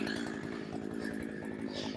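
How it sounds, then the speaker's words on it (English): A Husqvarna 372 chainsaw with a 28-inch bar and a dulling chain runs steadily during wood milling, a fairly faint, continuous buzzing drone with a rapid pulsing rhythm. "It's a 372 Husky. It's a big chainsaw. It's 28-inch bar."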